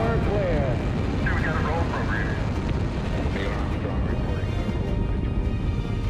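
Apollo 11 rocket launch in July 1969: a loud, steady, continuous roar that fills the whole stretch without letup, with a voice briefly audible over the rumble.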